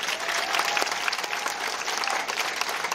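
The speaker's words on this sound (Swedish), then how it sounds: "Ge dem en applåd, det var fantastiskt faktiskt" A crowd at a street demonstration in Stockholm breaks into dense, sustained applause, a steady wash of many hands clapping at once with no gaps for the full length, fairly loud and close.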